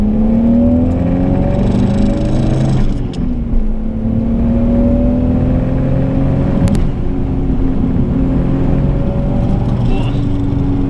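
A 1980s Toyota Supra engine hums steadily while driving, its pitch rising and falling with gear changes under continuous cabin noise, as someone talks over it throughout.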